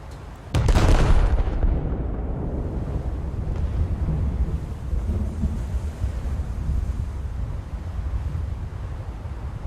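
A warship's guns firing in a naval video game, with a sudden loud boom followed by a long rumbling roar and a steady, wind-like wash that lingers for several seconds.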